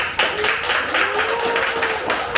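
A church congregation at Sunday worship claps for the woman who led the praise singing, a steady patter of many hands throughout, with a faint sustained tone underneath.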